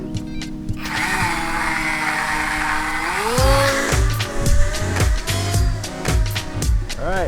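Small RC plane with electric motor and propeller spinning up to takeoff, a steady whine rising in pitch around the third second, then running loud and close with bumps and clatter from the ground roll.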